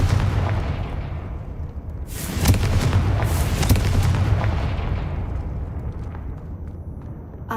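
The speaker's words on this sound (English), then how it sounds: "Confringo!" In the video game Hogwarts Legacy, a Confringo blast spell explodes with a deep booming burst that swells after about two seconds, then rumbles and fades over several seconds against a low background.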